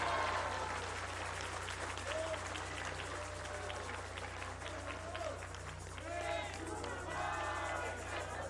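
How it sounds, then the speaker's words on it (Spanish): A crowd at a Mexican political event applauds in honor of President López Obrador, dense steady clapping heard at a distance under a low hum, with a voice over a loudspeaker in the background. "Un aplauso al presidente López Obrador, desde aquí hasta…"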